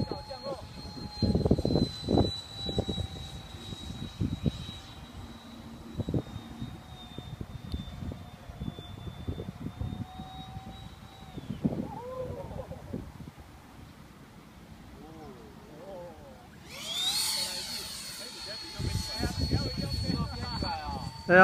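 A MIG-15 model jet comes in to land in fifth-grade wind, its engine a steady whine that fades and then surges again later, with wind noise buffeting the microphone and people talking throughout.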